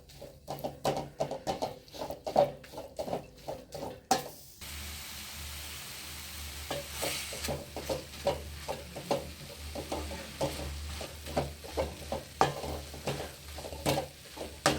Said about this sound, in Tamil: பொரியலுக்கு எவ்வளோ நேரம் வதக்குவோமோ அவ்வளோ நேரம் வதக்கிக்கோங்க.